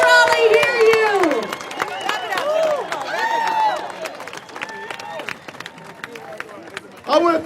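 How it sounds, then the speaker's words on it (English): A crowd at a Wilmington rally supporting the film industry cheers, whoops and claps loudly together, with shouting voices rising over steady applause and a fresh swell of noise at the end. "Give yourselves a round of applause, everybody. Make some noise."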